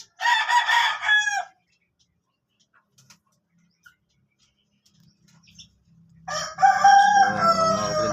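Pet chickens, including a rooster, clucking and crowing up close in two loud bursts separated by several seconds of near silence.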